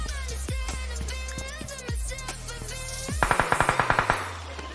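Gunfire in a shooting video game against bots, with several sharp single shots and then a fast automatic burst of about a dozen rounds, loud and close with no talking.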